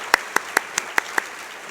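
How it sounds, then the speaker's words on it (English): A conference audience marks an award for 2018 leadership and excellence recipients with a short run of about six sharp, evenly spaced claps, crisp and fairly close, with no talking. "Another round of applause for our 2018 recipients of the Leadership and Excellence Award."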